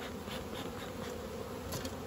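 Honey bees buzz steadily around an opened hive being inspected for suspected European foulbrood, a dense, continuous hum throughout with no talking.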